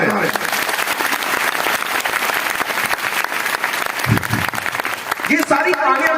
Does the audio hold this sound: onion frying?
no